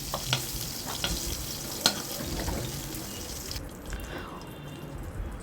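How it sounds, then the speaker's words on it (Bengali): Crabs frying in hot oil in a pan, a steady close sizzle with occasional stirring clicks and spatters, the hiss dropping away near the end. "কাঁকড়া খুব সুন্দরভাবে ভাজা হয়ে গেছে"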